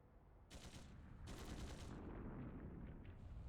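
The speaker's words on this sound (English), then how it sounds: "Gunshots! From the next district!" Gunfire from the next district in a video game sounds as two distant bursts of rapid shots, muffled and faint, over a low rumbling background with no speech.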